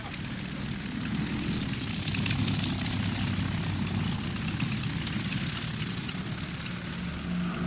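A Junkers 52 propeller aircraft from the Spanish Civil War era drones steadily, a loud, continuous engine roar that holds at an even level throughout with no voices.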